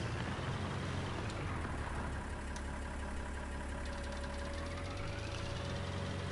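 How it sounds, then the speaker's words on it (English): Tractor engine idling steadily in the Farming Simulator 19 game, a continuous low rumble with a slight knocking texture that stays even throughout with no talk. "that tractor looks awesome. Sounds good too."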